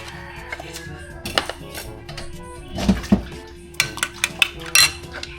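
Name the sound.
beating eggs with salt in a bowl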